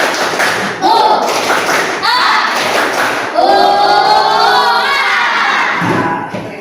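A classroom of children performs the tepuk rimba rhythmic clapping game, chanting loudly together with shouts and scattered claps and taps, led by a teacher's commands.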